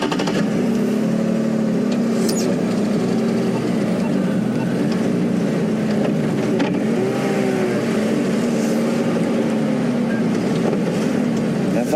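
A safari vehicle pulls away on a sunrise game drive, its engine rumbling steadily and close by while the motor revs slightly as it moves off, with someone talking over the noise.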